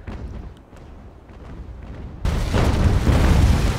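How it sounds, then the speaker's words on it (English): Naval cannon fire striking a wooden sailing ship in Ultimate Admiral: Age of Sail, a low rumbling boom that rises suddenly partway through into a loud, broad crashing roar that holds until the end. "beautiful shots into the stern of the Taurus"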